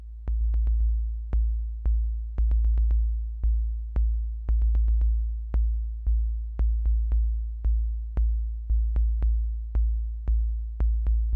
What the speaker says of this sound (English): kind of making a basic bass drum sound.